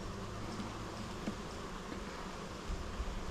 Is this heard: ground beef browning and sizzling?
no